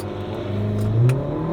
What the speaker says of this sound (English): I'm just going to stand on the throttle.